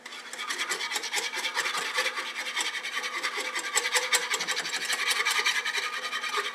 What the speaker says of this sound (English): now we need to whisk this